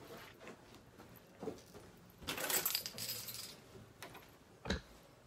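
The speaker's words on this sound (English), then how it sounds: "Oh, I need my keys." Keys being picked up give a few short metallic jingles and clinks close to the microphone, with a brief cluster in the middle and a single sharp clink near the end.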